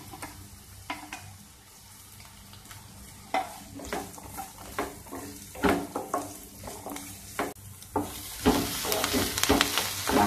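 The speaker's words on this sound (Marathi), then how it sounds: "त्यात कांदा घालायचा आहे, कांदा थोडा लाल परतून घ्यायचा आहे चांगला." Onions fry in oil in a kadhai for a clam curry, with a low sizzle under repeated stirring scrapes and clinks that grow louder and busier toward the end. No voices are heard.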